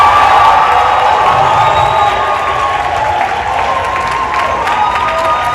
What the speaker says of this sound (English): Somebody clap your hands all over the house for that